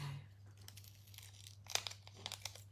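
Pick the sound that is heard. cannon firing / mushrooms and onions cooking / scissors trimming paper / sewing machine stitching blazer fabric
scissors trimming paper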